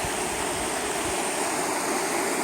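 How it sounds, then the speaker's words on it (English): A waterfall flows steadily at a fishing spot, a dense, continuous rushing hiss of water close by, with no voices. "It's always flowing with water."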